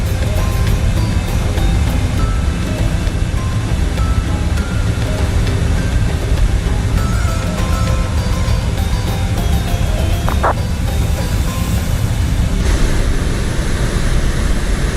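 PMDG Boeing 777-200ER jet in Microsoft Flight Simulator, a loud continuous roaring engine drone with dense broadband rumble, steady and close throughout, with a few faint clicks near the end.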